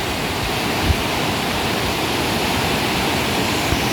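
A mountain river in Uttarakhand roars over rocks, a loud, continuous close-up rush of churning water with a couple of faint knocks and no speech.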